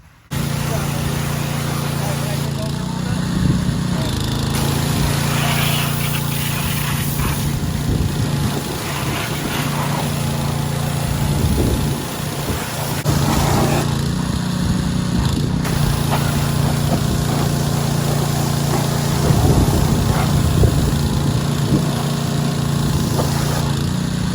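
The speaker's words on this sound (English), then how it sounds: "old junky lawnmower." An old lawn mower engine drones on continuously and loudly, with a rough, buzzing tone, while a voice talks intermittently over it.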